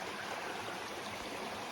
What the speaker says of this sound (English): Here's a little creek.